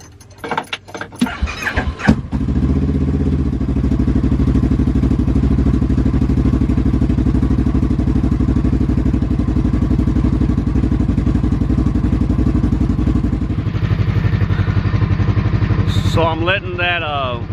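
Kawasaki KRX side-by-side with a full exhaust and tune, starting up after some clatter and then idling loud and close, a steady deep rumble that keeps going for the rest of the span.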